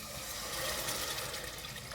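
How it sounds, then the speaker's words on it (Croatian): Water poured into a pot of sautéed vegetables to start a tomato soup, a continuous near splashing rush that fills the short moment, with no voices. "u ovo prodinsano povrće dodajemo naravno vodu."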